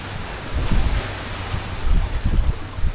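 Rising wind of about 12 knots rushes over a sailboat under way at sea, a steady broadband roar with gusty swells and low wave thumps against the hull, buffeting the microphone.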